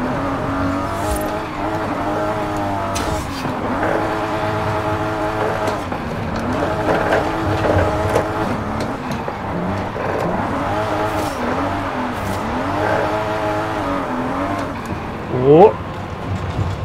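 A Volvo 240 Turbo in the Forza 5 racing game drones and revs through gear changes, engine tone rising and falling steadily, with a brief tire squeal near the end while people talk over it.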